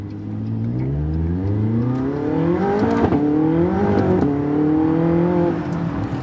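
A McLaren 675LT MSO supercar engine accelerates hard, its pitch climbing steadily through the gears with brief dips at the shifts, loud and close.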